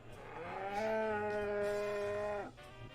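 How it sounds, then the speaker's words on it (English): A cow lets out a single long, loud, drawn-out moo close by, its tone wavering slightly before it cuts off. "Man, that cow's got something to say."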